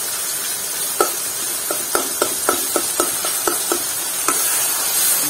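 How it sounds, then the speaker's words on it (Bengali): Ingredients for noodles, including ginger, frying in a pan: a loud, even hiss under a run of quick, regular metal spatula clinks. "ভালো করে এগুলি ভেজে নিতে হবে"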